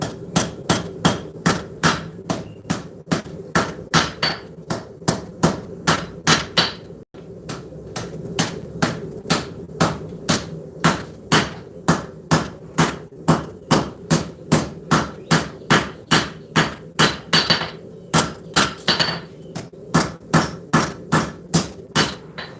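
Steady, evenly spaced hammer blows on hot metal at a forge in a workshop, roughly two ringing strikes per second continuing for over twenty seconds, loud and close with a brief pause partway through.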